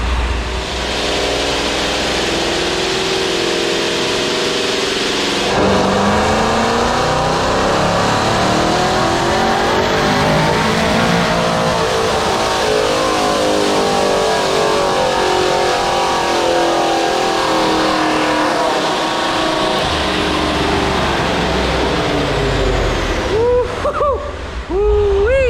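A 971 hp ProCharged, cammed 5.7 Hemi R/T engine revs loud and close, its pitch rising and falling through repeated throttle blips over a steady supercharged roar, with brief talk in the background.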